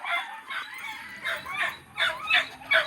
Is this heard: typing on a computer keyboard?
no